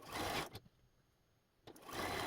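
A sewing machine stitches quilt squares together in two loud, steady whirring runs, with a quiet pause between them.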